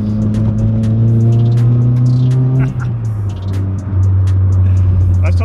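A Nissan Skyline R34 with a titanium exhaust, held at a garage for work, gives a loud, steady idle drone with a brief dip in pitch midway before settling again, close by with no talk over it.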